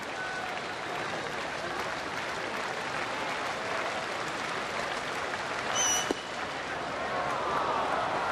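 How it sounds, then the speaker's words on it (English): Baseball crowd at a White Sox game at Boston, a broad steady roar of many voices swelling briefly into oohs and ahs near the end, with no commentary over it. "Now you hear the oohs and the ahs from the crowd"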